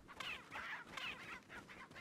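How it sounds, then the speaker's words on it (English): A chicken clucking in the Resident Evil 4 video game, a few quick, faint clucks in short bursts with no voices. "Chicken! Chicken!"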